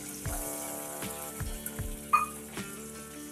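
Chopped mutton fat frying in a pan with browned garlic for a rustic Satara-style mutton curry, a steady close sizzle with a few sharp knocks of a spatula against the pan.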